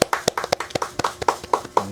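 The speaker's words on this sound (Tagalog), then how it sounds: "palakpakan natin si Tita Marie" Group clapping for Tita Marie at a food donation handout for a senior mother, about a dozen crisp claps in a fairly even rhythm, close and moderately loud.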